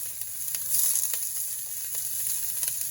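Chopped onion and garlic sizzle in hot oil in a pan for lugaw, a steady bright hiss with occasional soft stirring scrapes, close and alone.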